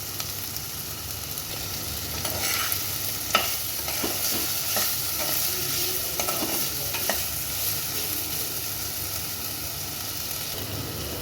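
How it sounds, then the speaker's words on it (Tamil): A potato poha breakfast mixture is stirred in a pan over the flame, a steady close sizzle with soft scraping spoon strokes throughout and no talking. "இது எல்லாத்தையும் ஆட் பண்ணிவிட்டு நல்லா மிக்ஸ் பண்ணிக்கலாம் உப்பு சேர்த்துக்கலாம்"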